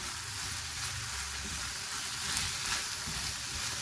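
Chopped capsicum stir-frying in a pan, a steady dense hiss of sizzling oil with light stirring, moderately loud and continuous, no talking.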